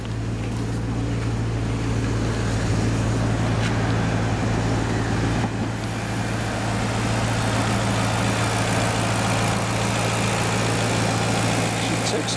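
A Maserati Quattroporte with a Ferrari-designed engine idles steadily with the hood open, a smooth, even low hum and faint mechanical ticking heard up close, with no voices.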